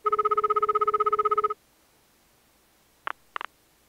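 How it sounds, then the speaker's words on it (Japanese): An old rotary telephone dial is wound and released in a quick run of about fifteen evenly spaced clicks lasting a second and a half, followed by silence and a few faint, sharp ticks, in the game Yasoukyoku 2. "電話帳で調べ、旧式のダイヤルを回す。"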